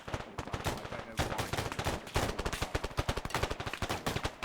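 Rapid gunfire in the military game Arma 3, dense overlapping bursts of automatic shots crackling continuously, fairly faint and distant, with no talk over it.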